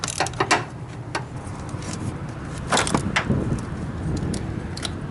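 A wrench loosens the 10mm negative battery terminal on a Chevy Impala with a 3.6-liter engine, giving a few sharp metallic clicks and ratcheting taps close by, then quieter handling noise.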